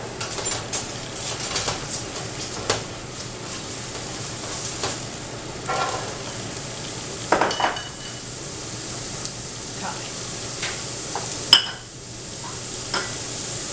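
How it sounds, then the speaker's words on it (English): Carrots, parsnip, celery and thyme sizzle steadily in hot oil in a pan, a close, even hiss with occasional stirring scrapes and small pops. "So I'm going to add the oil. We're going to add these vegetables"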